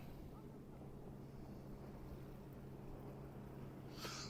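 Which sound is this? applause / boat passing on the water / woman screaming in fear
boat passing on the water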